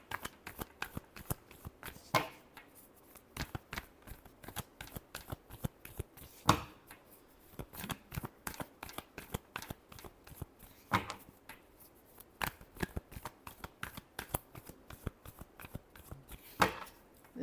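Tarot cards being shuffled during a Taurus love reading, a steady run of soft papery riffles and flicks with a few sharper snaps, close and quiet, with no talking.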